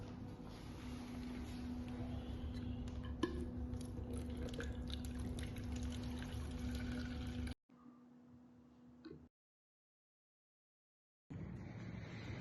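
Water steadily drains from a bottle through a pipe, trickling with a constant low hum underneath, then cuts to near silence before resuming briefly at the end.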